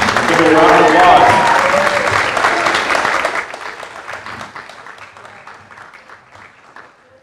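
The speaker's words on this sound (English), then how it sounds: "Let's give it a round of applause." An audience at a high school signing day breaks into loud applause that holds for a few seconds, then thins into scattered claps and fades away, with voices talking over the tail end.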